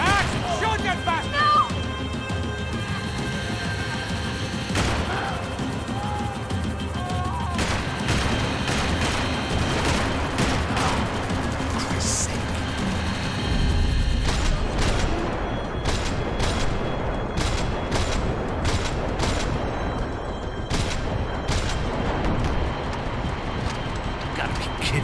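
Bursts of gunfire in the Max Payne 3 video game, repeated loud shots and rapid volleys over a heavy rumbling backdrop, with crashes mixed in during a chase sequence.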